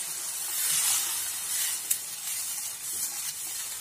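Water is poured into a simmering spicy gravy for a Maharashtrian pakoda curry, giving a brief loud sizzling hiss that fades into a softer steady bubbling, with no talk.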